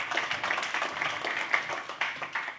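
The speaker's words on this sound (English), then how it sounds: "Thank you for the applause as well." Scattered clapping from the audience at a launch event in Amsterdam: a few distinct, uneven hand claps at moderate distance, fairly light and sparse rather than a full roar.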